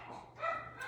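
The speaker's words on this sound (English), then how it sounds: "The dogs bark whenever they come home." Dogs barking indoors as someone arrives home, a few short, slightly muffled barks and yips at moderate distance, with no speech over them.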